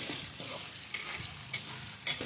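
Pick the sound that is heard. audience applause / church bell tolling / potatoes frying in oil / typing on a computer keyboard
potatoes frying in oil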